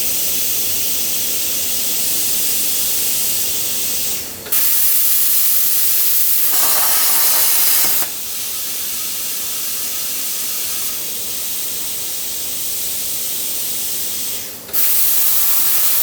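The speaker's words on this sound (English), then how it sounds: "So I then cut out 14 individual pieces on the plasma cutter." Plasma cutter slicing 14 steel pieces for a chain sword blade, a steady loud broadband hiss running continuously with brief dips and restarts between cuts, no talking.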